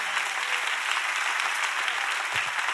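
A church audience breaks into sustained applause, a dense, loud wash of many hands clapping together without pause for the whole stretch.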